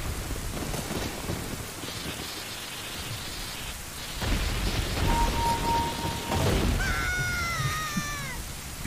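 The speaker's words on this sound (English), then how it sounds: "Good thing it's raining." Rain patters steadily in the video game The Legend of Zelda: Ocarina of Time, with low thunder rumbling beneath it. Brief game tones and wavering chimes rise over the rain near the end.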